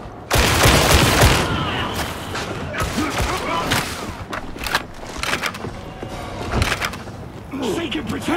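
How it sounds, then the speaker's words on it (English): Grenade explosion and gunfire in Warhammer 40,000: Darktide: a loud blast kicks off, followed by a chaotic run of rapid shots and bangs, with voices shouting over the battle. "It's a grenade!"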